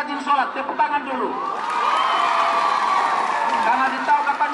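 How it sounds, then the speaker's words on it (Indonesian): Schoolchildren at a Maulid Nabi gathering in a madrasah clap and cheer together, a dense, fairly loud crowd of applause mixed with shouts, following and overlapping a man's speech. "Tepuk tangan dulu."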